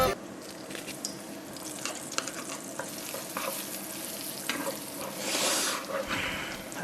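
Bacon and garlic frying in a pan, a steady close sizzle with scattered crackles and light stirring scrapes, swelling louder near the end with no talk.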